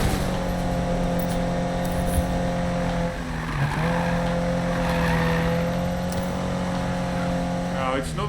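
A car in the Need for Speed 2015 racing game holds a steady engine whine, dips as it shifts or brakes with tire squeal midway, then revs back up, a speaking voice running over it.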